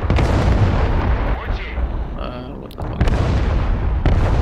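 Bombing explosions in the Broken Arrow war game, a dense rumble of heavy blasts and booming impacts with crackling bursts layered over one another, loud and continuous, with someone talking over part of it.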